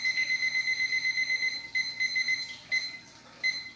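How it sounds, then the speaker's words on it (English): A kitchen timer beeps in rapid, evenly spaced bursts, loud and close, with a few short pauses between runs of beeps in a home kitchen. "Here's my timer. I'm going to start with 20 minutes."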